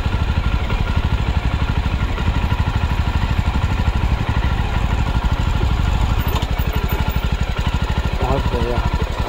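A motorcycle engine runs steadily near at hand with a fast, even throb and clatter at a bird sanctuary entrance, while someone talks over it.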